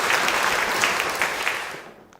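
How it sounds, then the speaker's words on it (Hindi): Studio audience at a Ramadan quiz show bursts into dense, loud applause that holds steady for about two seconds before fading out. "तालियां एक दफ़ा पे।"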